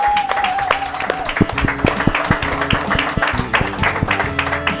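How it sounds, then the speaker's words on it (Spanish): A live crowd applauds a comedy roast or party show, the clapping dense and loud throughout, with sharp percussive hits and a tonal music or sound-effect cue mixed in, while voices call out underneath. "fuerte el aplauso para"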